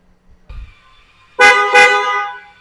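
Stock horn on a 2026 Ford Everest Trend, sounded in two loud, close honks just over a second in, after a brief quieter toot at the start, each blast a bright harmonic tone that fades out.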